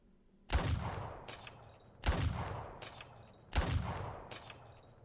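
Three booming gunshots in the video game Arknights ring out at even intervals, each one loud and echoing with a long reverberant tail.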